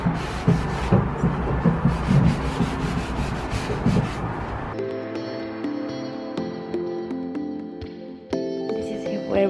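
Rough scraping of sandpaper against a wooden nightstand for several seconds, then the rubbing gets lighter and mixes with steady tonal background noise.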